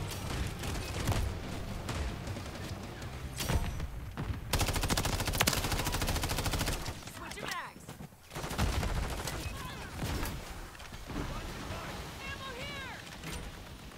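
Rapid bursts of gunfire in Call of Duty: Modern Warfare III crackle and rattle in dense volleys, with brief pauses between strings of shots and some voices underneath.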